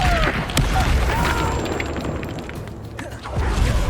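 Confringo fire spell explosions in Hogwarts Legacy: booming bursts and whooshing blasts over continuous combat rumble, loud and close, with brief spell sweeps layered in.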